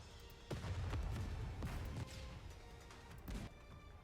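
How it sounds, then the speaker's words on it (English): Gunfire mixed with distant artillery in the NIKKE video game, a few heavy booming impacts and sharp cracks spaced irregularly over a rumbling battlefield background, moderately faint overall. "There's a symphony of noise as Snow White's gunfire melts with artillery fire from off in the distance."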